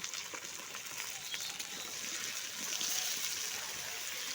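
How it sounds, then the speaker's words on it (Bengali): Potatoes and pointed gourd fry in oil in a pan, a soft, continuous sizzle at low level with faint stirring, heard alone. "আলু এবং পটলগুলোকেও আর একটু ভালো করে ভেজে নেব"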